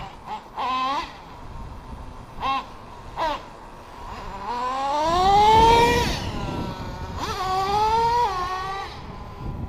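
The nitro engine of a Traxxas T-Maxx 3.3 RC truck gives a few short high-pitched revving bursts, then winds up into a sustained rising whine that holds and wavers before easing back.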